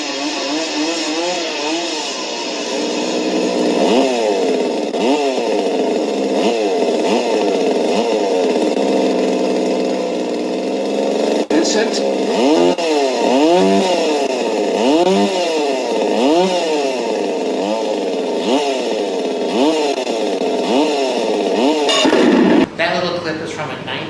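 A chainsaw in a film clip from the 1970s movie Motel Hell revs repeatedly, its buzzing pitch rising and falling in rhythmic surges, loud and close, with a brief break midway before revving again.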